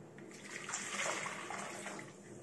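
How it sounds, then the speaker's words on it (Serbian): Hot water being poured into a bowl while making an eggless summer fruit cake, a soft steady splashing pour lasting a couple of seconds, quiet and close with no talk. "uzmite drugu posudu i tu dodajte vrelu vodu"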